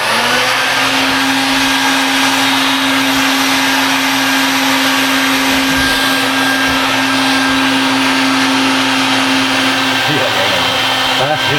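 Steady, loud droning whine of vacuum suction running without a break, with a shifting tone near the end as the flow is adjusted.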